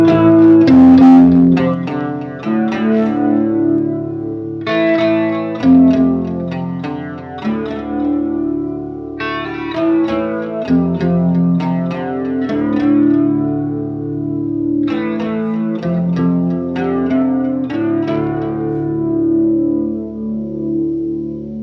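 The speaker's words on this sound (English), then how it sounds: "I have a BF2 flanger down here and a flashback delay" Electric guitar played through a BF2 flanger and a Flashback delay, ringing chords struck in repeated phrases with swirling sweeps and trailing echoes, loud and alone with no talking.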